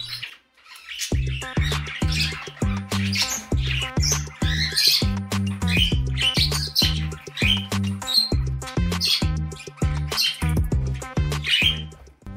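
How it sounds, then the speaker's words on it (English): A turquoise parakeet squawks and chirps in rapid, repeated bursts over a steady rhythmic background pattern, loud and close throughout with no pauses of silence. "This is my turquoise named parakeet"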